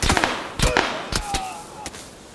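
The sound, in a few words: gunfire in video game PUBG Lite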